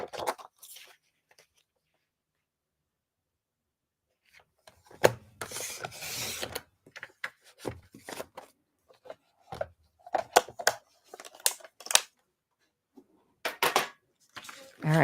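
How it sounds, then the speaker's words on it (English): Paper trimmer slicing a 12-inch sheet of scrapbook paper in half at 6 inches: scattered close rasping and rubbing strokes with light taps and handling noises, in short irregular bursts, no talk. "I'm going to go ahead and cut it in half."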